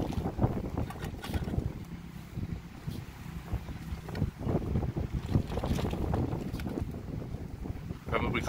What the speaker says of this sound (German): es ist heute übrigens sehr windig